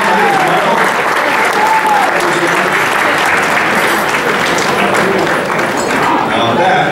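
At an awards banquet for string band captains, the audience applauds steadily and loudly for the full stretch, a thick even roar of clapping with faint voices underneath.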